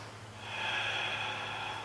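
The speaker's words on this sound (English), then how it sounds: "Take a big breath here." One deep, slow breath, drawn in and let out close to the microphone during a yoga prayer pose, heard alone and softly.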